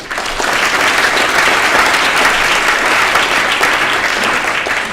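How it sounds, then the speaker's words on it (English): Sustained applause from a science lecture audience, dense clapping holding at an even, loud level throughout. "a warm round of applause, please, for Max."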